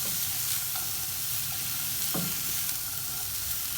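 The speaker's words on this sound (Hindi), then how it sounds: "तो 1 मिनट तक सौते करेंगे।" Vegetables for a Spanish omelette sauté in a pan, producing a steady close sizzle with a few soft scrapes and clinks as they are stirred.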